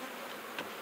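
Honeybees buzz steadily inside an opened horizontal hive, a close, even drone that holds through the whole short moment with one brief swell near the end.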